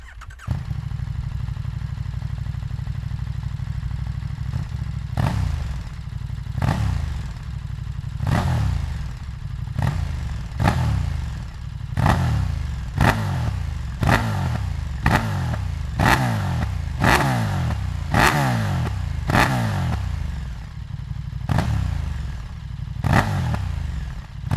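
A 2020 KTM 1290 Super Duke R with a one-piece Cobra SPX carbon exhaust idles loudly, then gets blipped again and again in a string of sharp revs that come closer together toward the end, heard up close with no talking.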